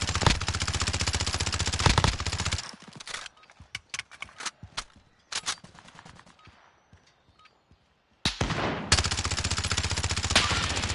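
Bursts of rapid video game gunfire during a Plunder match, loud dense volleys at the start and end with scattered single shots and quieter gaps between them.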